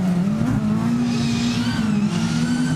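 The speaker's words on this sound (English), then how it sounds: "Listen, it's all you can hear is Marcus Norman's car." A rallycross race car engine roars steadily from about half a mile away, a sustained droning note holding loud and continuous down the straight at the Strängnäs, Sweden circuit.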